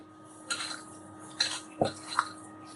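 A spoon clinks and scrapes a few separate times against a bowl as a spiced mashed potato mixture for aloo kababs is stirred, with red chilli powder and lemon juice added; the sounds are faint and isolated.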